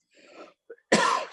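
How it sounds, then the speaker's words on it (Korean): A single harsh cough bursts out after a few soft breathy sounds and a brief vocal noise, close to the microphone. "기침 때문에 제대로 말을 못하는데"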